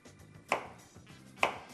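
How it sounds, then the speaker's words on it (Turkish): Two sharp knife strokes cut through firm pumpkin on a board, about a second apart, close and fairly loud. "kabağımızı şöyle güzelce bir şekilde ince ince doğramamız gerekiyor"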